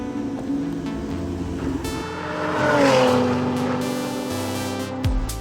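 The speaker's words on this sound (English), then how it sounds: "Starting to sound like a flat six." A Porsche Cayman GTS flat-six engine revs inside the car, its harmonic drone climbing and swelling to a peak before dropping back, with a brief thump near the end.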